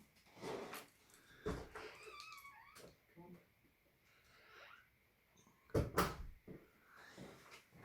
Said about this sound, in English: Bear with us while there's a cat meowing.